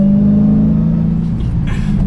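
A supercharged Dodge Challenger SRT Hellcat with a 6-speed manual gives a loud, close engine and exhaust drone with a steady low tone that fades as a brief rev ends. No one speaks.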